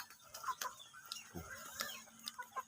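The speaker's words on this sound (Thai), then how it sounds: "โอ้ตีกันละไก่ตีกันละ" Chickens scuffle and fight outdoors at dusk, giving quiet, scattered clucks and brief squawks in short irregular bursts.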